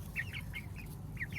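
Backyard hens give a run of short, repeated clucks close by, six or so quick calls in an uneven rhythm over a low background rumble.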